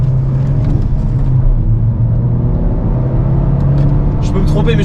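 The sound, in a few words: Peugeot car passing on the Nürburgring track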